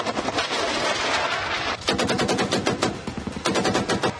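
Sustained machine gun fire along the Line of Control in Jammu and Kashmir, heard at dusk as long rattling bursts broken by a brief pause, loud and harsh with no voices.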